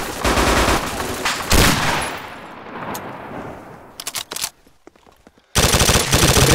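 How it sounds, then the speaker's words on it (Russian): An MG-34 machine gun fires in ArmA 2 with the ACE mod. Loud, dense bursts of rapid automatic fire come close, then fade to a few scattered shots and a brief quiet before another heavy burst. "Пулемет где-то. МГ-34. А вот он пулемет."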